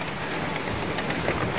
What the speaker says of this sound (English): Good grief, this rain.